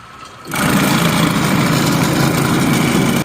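Fischbein bag closer line with belt conveyor and pneumatic thread pusher sewing a bag shut: after a brief quiet moment, a loud, steady mechanical whir and clatter starts and runs evenly until it cuts off abruptly.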